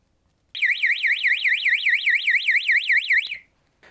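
A signal indicator alarm set off by a thermal camera sounds a loud, fast warbling electronic tone that starts abruptly and runs steadily for about three seconds, then cuts off, with no talk.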